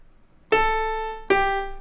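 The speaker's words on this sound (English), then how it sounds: "So it sounds like this on the piano." Two piano notes struck in turn, each ringing out clearly and decaying slowly, isolated and close with no voices.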